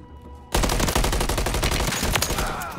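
Gunfire in MW3 Zombies breaks out abruptly in a loud, close, rapid automatic stream of shots that continues steadily to the end.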